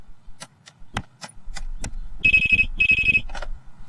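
A telephone rings while a call is placed, a bright electronic trilling ring in two short bursts, preceded by scattered clicks and taps in a cartoon scene with no talking.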